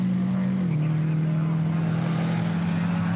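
Mack and Isuzu super trucks race down the straight at Winton Motor Raceway, a loud sustained engine drone that dips slightly in pitch early on and then holds steady, heard without commentary.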